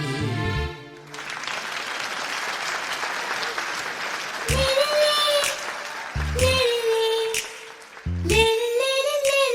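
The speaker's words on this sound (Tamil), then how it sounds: "கைத்தட்டியே வாழ்த்து சொல்லுங்களே" Audience applause at a Tamil poetry and song radio programme, a dense wash of clapping that runs under sung music, with strong sustained singing notes rising above it in bursts.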